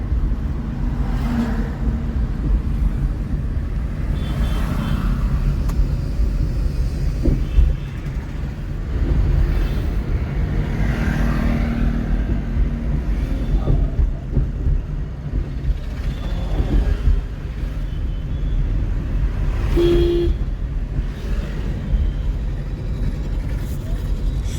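A car driving steadily through a driving lesson in Ranchi, its engine and road rumble continuous and fairly loud throughout, with brief bumps and faint instructor speech mixed in.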